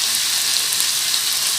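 Chopped onions sizzle steadily in a hot pan for tawa chicken, a dense, even crackle with tiny pops, close and continuous.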